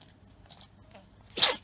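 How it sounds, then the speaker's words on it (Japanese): A pet dog gives a single sharp sneeze, close and fairly loud, after a few faint rustles in a quiet indoor room. "あらら、くしゃみしたの？"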